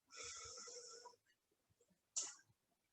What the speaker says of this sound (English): Inhale deeply.